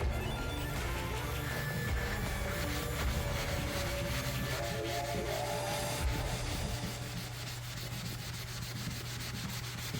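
Steady close rubbing as a magic eraser scrubs vinyl on a Wellcraft Nova boat seat, a continuous gritty scrubbing with a low background hum and no talking.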